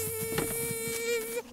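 Cartoon bees hum near their hive in a steady, close, continuous buzz that lasts the whole moment and then tapers off at the end.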